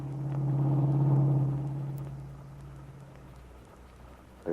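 Car engine drones steadily through heavy city traffic, a low hum that is strong at first and then eases off and fades toward the end.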